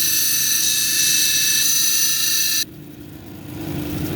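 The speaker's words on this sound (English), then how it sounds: "now I'm going to go back on the 80 grit, and we're going to grind this edge down a little bit" A jasper cabochon's edge is ground on an 80 grit wheel, giving a loud, steady high-pitched whine that stops abruptly partway through and leaves a lower motor hum.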